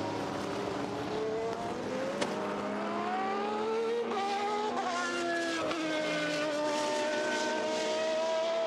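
Peugeot Group C race car lapping during Silverstone Classic qualifying, its engine note loud and continuous, rising and falling in pitch through gear changes and passes with sustained high-revving drone and no talk.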